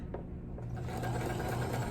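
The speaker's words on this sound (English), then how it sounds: "I'm gonna go forward a couple of stitches, and then I'm gonna back stitch," A sewing machine stitches fabric steadily and up close, its motor humming continuously with a rapid mechanical rattle that gets slightly louder partway through, as a few stitches go forward and then back.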